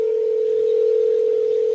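A telephone call rings out as one steady, loud electronic tone that holds unbroken from start to finish, with nothing else heard alongside it.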